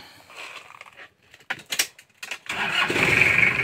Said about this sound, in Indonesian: nah mesin juga masih renyah ya